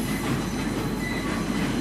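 A passenger train rolls along an elevated track on a suburban rail line near Adelaide, a loud, steady rumble and rattle of wheels close by, with no voices.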